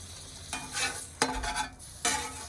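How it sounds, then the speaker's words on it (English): A grilled peanut butter and jelly sandwich is moved and flipped on a Blackstone griddle, with three bursts of close scraping and sizzling from the spatula over a steady background hiss, no voices. "now we are going to move it around, flip it over."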